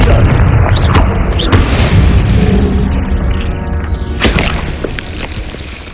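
In the Hogwarts Legacy video game, a Confringo fire spell hits with a loud, close booming blast that rumbles on and slowly fades over several seconds, with a second burst partway through.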